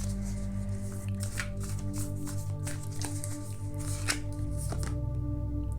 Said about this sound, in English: let me just shuffle all the cards